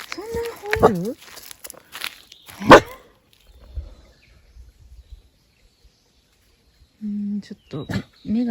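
A dog barks in a mountain area near a rural home, with a few sharp, fairly close barks at the start and again near the end, mixed with a person talking and footsteps.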